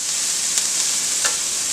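Onions and garlic stir-fry in a hot pan for a salmon stir fry, with a loud, even sizzle and a few quick scrapes from stirring.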